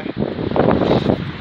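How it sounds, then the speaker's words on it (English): Gusty wind buffets the microphone on an exposed hillside forest trail at Whinlatter, a loud, roaring rush that swells in the middle and eases off, with no voices. "It's got a bit windy now, wind's back in our faces."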